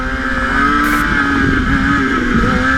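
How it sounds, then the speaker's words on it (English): A stunt motorcycle's engine revs hard while the rider holds a wheelie, a loud, sustained high-pitched whine with a steady buzzing drone and slight pitch swells, no voices over it. "I'm running a wheelie right now."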